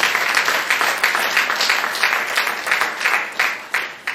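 A congregation at a church worship service applauding Jesus of Nazareth, with sustained rhythmic clapping from many hands, loud and close, swelling in waves throughout.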